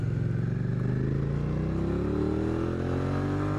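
A motorcycle engine labours in too high a gear, its loud, close, steady drone rising slowly in pitch with a rough, juddering edge and no voices.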